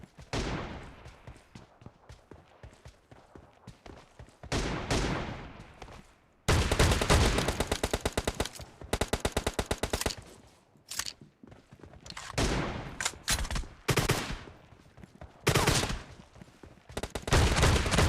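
Rapid bursts of M1014 shotgun fire in the mobile battle royale game PUBG Mobile, loud repeated blasts in clusters with short pauses between volleys, plus softer footstep-like shuffling early on.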